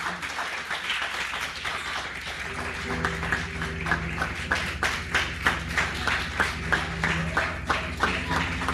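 A church congregation claps in a steady rhythmic beat at a worship service, firm regular claps over sustained musical tones, moderately loud and continuing throughout.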